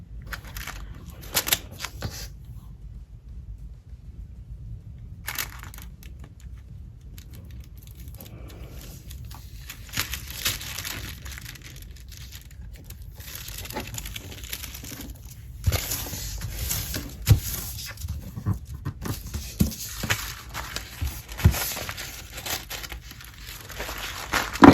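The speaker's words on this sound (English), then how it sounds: "then let's take this tissue paper" Tissue paper being handled while decorating a Classic Happy Planner, close soft crinkles and rustles coming in scattered bursts with quiet gaps, heavier handling toward the end.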